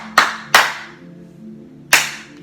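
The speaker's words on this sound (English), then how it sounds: "rub them vigorously, clap 3 times." Three sharp hand claps in a self-care stretching routine, two close together and a third after a pause, loud and crisp over a quiet room with a faint low hum.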